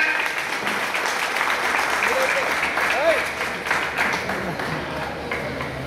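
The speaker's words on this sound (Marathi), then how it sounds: "जोरदार टाळ्या" An audience applauds at a stage gathering with a kirtan performer, a steady wash of clapping that holds at an even level throughout, with a voice faintly audible beneath it.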